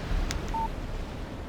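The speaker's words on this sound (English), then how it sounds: "Text message from Barry" A short electronic text message alert tone sounds from a phone in the Alan Wake Remastered video game, a brief clear beep alone over a quiet room-like background.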